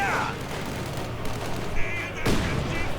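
Gunfire and booming battle noise from a WWII strategy video game, with machine gun bursts mixed into a dense, continuous wash of combat sound, a sharp explosion-like onset near the end, and faint voices underneath.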